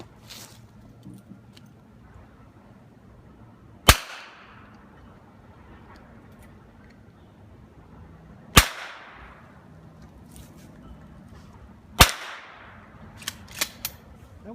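.22 Long Rifle gunshots at an outdoor shooting session in Tennessee, three sharp, small-caliber cracks like a cap gun spaced several seconds apart, then a quick pair of fainter pops, over quiet background.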